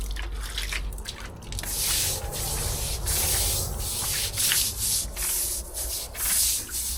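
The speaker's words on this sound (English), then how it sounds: "I'm applying this using a watering can, but you can also use a pump sprayer or just a bucket and a brush." Neat bleach poured from a watering can onto a sandstone patio with black spots and lichen, giving a steady close splashing wash that swells in repeated pulses across the slabs.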